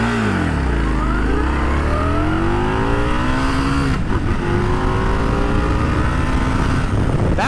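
2025 Indian Scout 101 motorcycle accelerating hard away, its engine roaring loud and close as the pitch climbs through quick gear changes with a brief shift break midway.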